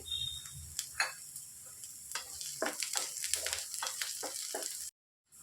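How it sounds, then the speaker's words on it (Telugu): Sliced onions and chopped green chilli frying in hot oil in a pan with a pinch of asafoetida, a steady close sizzle broken by scattered clicks and spatula scrapes, cutting off abruptly near the end. "ఉల్లిపాయలు అనేవి బాగా వేగిపోయాయండి"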